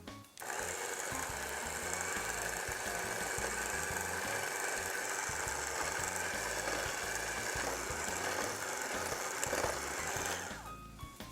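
A stand mixer on low speed churns almond flour, cocoa powder and almond extract for a chocolate marzipan truffle mix, giving a steady, close mechanical whir with a faint rhythmic grind that cuts off near the end.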